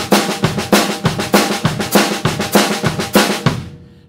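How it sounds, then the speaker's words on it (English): Drum kit playing a hand-to-hand train beat with both hands on the ride part, loud and close, giving an even driving pulse with strong accented backbeats before it breaks off and rings out. "is what I term a hand-to-hand train beat, where both hands play a role in creating the ride part."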